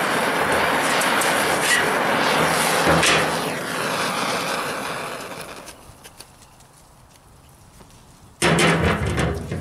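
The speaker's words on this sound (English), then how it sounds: "We're going to be able to burn the paint off this toolbox." A torch burns paint off a metal toolbox outdoors on a driveway, producing a loud, steady roaring hiss that fades and drops away briefly before flaring back up sharply near the end.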